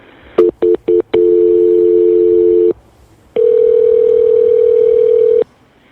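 Telephone dial tone after a few short touch-tone dialing beeps, the steady tone holding for about two seconds, breaking off, then returning for another two seconds; loud and close, with no talk.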